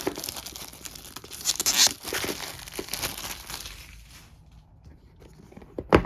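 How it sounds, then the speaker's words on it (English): Cellophane wrap peeled off a box for a Trash Pandas game, close crinkling and tearing rustles in irregular bursts, quieting before a final sharp crinkle. "we're taking the cellophane off"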